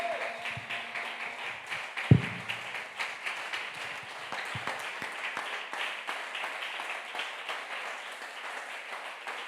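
A church congregation at a sermon applauds and claps steadily through the whole stretch, a dense ongoing patter of many hands with one sharp knock near the start.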